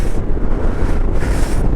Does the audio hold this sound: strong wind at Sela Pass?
yes